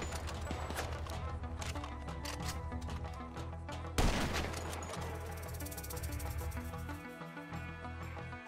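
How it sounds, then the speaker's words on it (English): Heavy .50 caliber machine gun fire in GTA Online, loud and dense amid game music and crashing impacts, with a sharp burst midway and continuous rapid shots throughout. "Is that a 50 cal?"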